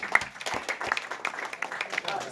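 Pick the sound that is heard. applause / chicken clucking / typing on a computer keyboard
applause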